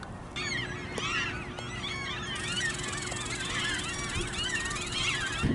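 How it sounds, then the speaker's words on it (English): Goose honking outdoors in Canada in winter, a dense run of many overlapping nasal calls at moderate distance over a steady low hum, with no talk. "It is most certainly where a goose lives."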